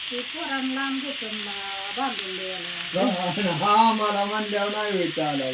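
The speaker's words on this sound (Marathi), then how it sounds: "त्याला मस्तपैकी फोडणी द्यायची" Spices hiss and sizzle in hot oil as tempering for potatoes while people talk close by over the crackle.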